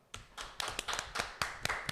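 A small group claps hands about eight times in a loose, uneven rhythm, each clap sharp and close, with a faint murmur of room noise between them.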